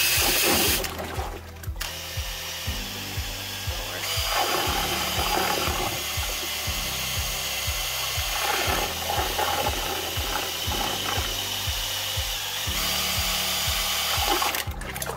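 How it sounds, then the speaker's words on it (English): A drill-driven paddle mixer, similar to a cement mixer, stirs hydroponic nutrient solution in a tote, giving a loud, steady whirring drone with rhythmic knocking and sloshing water throughout, near and continuous. "I will take this, which is like probably a cement mixer, and I will mix it up"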